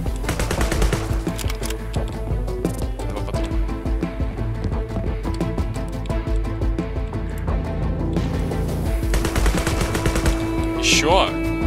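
Automatic rifle gunfire in the video game Sword With Sauce, dense rapid bursts running nearly continuously at a loud level, mixed with music or game noise and a voice talking.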